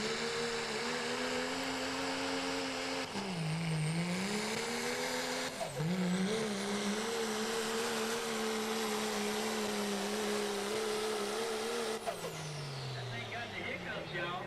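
A 2012 Dodge pulling truck at the 2023 East Coast Nationals truck and tractor pull roars loud and sustained, its engine pitch dipping and recovering twice before winding down at the end.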